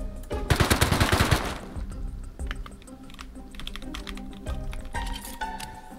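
An MP5 submachine gun fires in a video game: a dense, rapid burst up front, then scattered, lighter shots and clicks trailing off.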